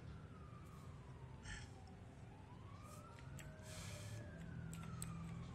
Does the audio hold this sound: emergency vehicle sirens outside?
yes